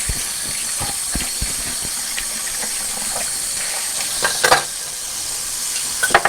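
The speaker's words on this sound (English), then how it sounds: "I am going to rinse out this strainer before I do that" A cocktail strainer rinsed under running water, a steady hissing stream with scattered clinks and knocks of metal, louder taps near the end.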